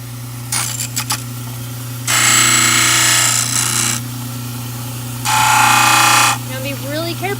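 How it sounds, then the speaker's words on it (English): A dental lab trimmer grinds excess material from a dental model for bleach trays, two loud sustained grinding bursts between quieter handling noises, up close over a steady motor hum. "Now I'm going to trim off the parts that stick out."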